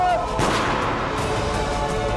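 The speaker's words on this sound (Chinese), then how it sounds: "乔安天， 开枪！" Gunfire from a staged shootout in a TVB period drama, a sharp loud blast followed by a dense, rumbling wash of shots and noise that fills the whole stretch.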